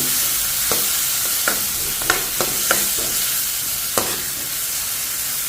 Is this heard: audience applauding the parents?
no